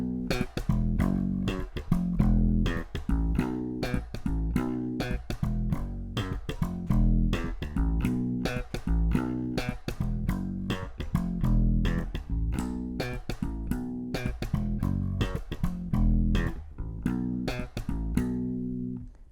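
Slap bass plays the bass line of a pop song, punchy percussive slapped and popped notes in a bouncy, steady groove, close and alone for about twenty seconds.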